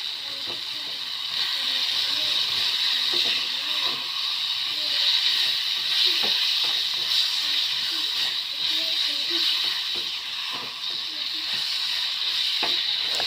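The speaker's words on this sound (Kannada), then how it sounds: "ಈಗ ಕಟ್ ಮಾಡಿರ್ತಕ್ಕಂಥ ಆಲೂಗಡ್ಡೆಯನ್ನು ನಾವೇನು ಮಾಡಬೇಕು, ಡೈರೆಕ್ಟಾಗಿ ಸೇರಿಸಬೇಕು." A steady hiss and sizzle of cut potatoes frying in gravy with curry leaves and jaggery runs throughout, with faint stirring clinks and a voice talking over it.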